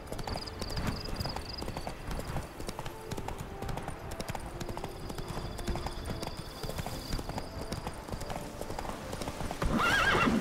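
Horse hooves in The Witcher 3 clip-clop steadily and close as the rider travels, with game ambience underneath and a whinny near the end.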